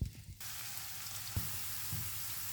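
Onions sizzle in hot cooking oil in a pan, a sudden hiss that holds steady and close, with a couple of soft stirring knocks and no talking.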